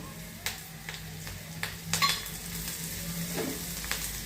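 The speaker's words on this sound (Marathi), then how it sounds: "कोथिंबीर तडतडली पाहिजे" Chopped onion and coriander sizzle and crackle in hot oil for a Maharashtrian pithla tempering, a steady close frying hiss with a few sharp pops and a light clink of a utensil.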